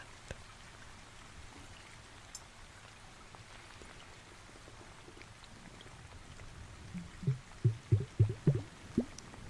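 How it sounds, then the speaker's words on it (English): A water-filled bauble is handled gently. Near silence gives way to a quick run of soft, close sloshing and bubbling pulses toward the end. "we are gently listening to each sound that this wonderful water bauble brings"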